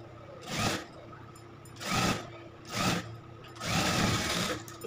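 A sewing machine stitches seams on an Anarkali suit in several bursts of rapid whirring of about a second each, separated by brief pauses, close and clear, with no talking.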